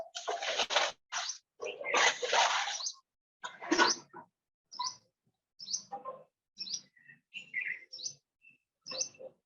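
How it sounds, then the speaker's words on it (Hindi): Outdoors at dawn in a quiet wooded spot, birds call in a string of short, sharp chirps and twitters, busier at first and then spaced into regular little bursts, fairly close and unaccompanied by voices. "चिड़ियों की आवाज आ रही है।"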